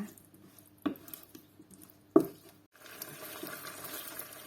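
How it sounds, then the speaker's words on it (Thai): Bamboo shoots stir-fry with red curry paste in a pan: two sharp utensil knocks against the pan, then a low continuous sizzle with faint stirring, close by and without speech. "เราจะทำการคั่วหน่อไม้กับพริกแกงให้เข้ากันค่ะ"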